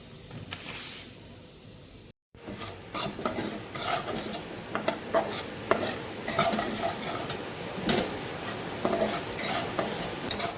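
Semolina roasting in a kadai, stirred with a metal spoon. Steady rhythmic scraping and clinking against the pan runs throughout with a soft hiss, broken by a brief silent gap near the start.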